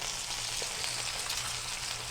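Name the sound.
pork loin sizzling while browning in a pan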